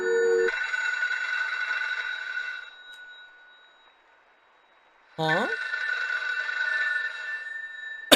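An old-style telephone bell rings loudly in a video game, a sustained metallic trill that stops, leaves a stretch of near silence, then starts again just as strongly, with a brief spoken exclamation between the rings.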